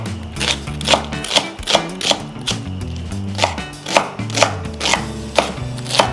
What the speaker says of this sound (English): Finely chop shallot or onion.